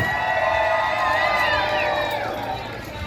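Crowd cheering and whooping for a pig in a pig race at The Grove in Hollywood, Los Angeles; a loud, sustained mass of shouts and children's voices that fades slightly toward the end.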